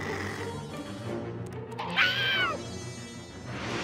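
A cartoon black cat lets out a loud, drawn-out meow that rises into a yowl midway through, heard over busy background sound and music from a kids' animated series.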